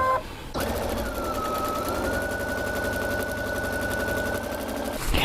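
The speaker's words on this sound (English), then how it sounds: "There's a speed regulator on the top, and that lowers the top speed of the machine, so it's going to sew at a kid's speed" A sewing machine running at full speed with its speed regulator turned up, a rapid steady mechanical rattle that starts abruptly, holds for several seconds, and stops.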